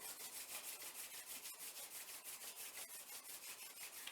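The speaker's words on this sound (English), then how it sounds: "And just rub the hands together." Palms rubbing briskly together during a yoga gratitude practice, a close, steady dry friction hiss with a regular back-and-forth rhythm throughout, no talking.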